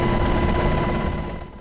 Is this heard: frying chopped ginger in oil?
no